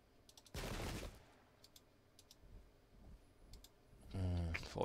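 A musket volley in the strategy video game Pike and Shot Campaigns: one loud, crackling burst lasting about half a second. Quiet clicks and faint voices follow, then another loud burst of noise near the end.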